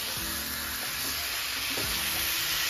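Vegetables such as eggplant, potato, taro and okra sizzle steadily as they fry on a tawa, a continuous hiss of oil with faint scraping stirs as they are mixed.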